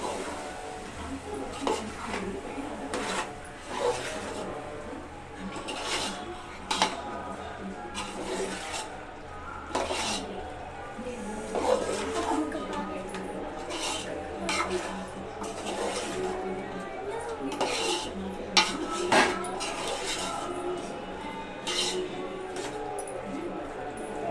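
A pot of gongura chicken curry is stirred after chicken masala goes in, giving irregular scraping and clinking knocks of a spoon against the pot over a low steady simmer, fairly close, for the whole stretch without speech.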